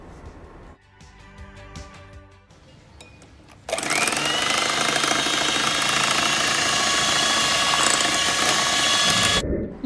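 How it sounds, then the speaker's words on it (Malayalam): An electric mixer whirs steadily and loudly for about six seconds as it beats eggs with sugar and vanilla essence until fluffy for a black forest cake. Quieter kitchen clatter comes before it starts. "മുട്ട നന്നായിട്ട് ബീറ്റ് ചെയ്തെടുത്തു."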